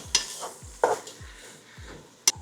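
Bite-size chopped brisket goes into a pot of cowboy beans, giving a soft steady sizzle under a few scraping stirs and sharp clinks of a utensil against the pot, close up and unhurried, with no talking.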